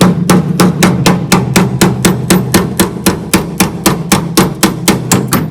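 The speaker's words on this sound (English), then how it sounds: "I just hit it with a little more lube and tap on it." A hammer taps a suspension shaft out of a Porsche 914 during restoration, sharp close metallic strikes repeating about three to four times per second in a steady run, with no talk.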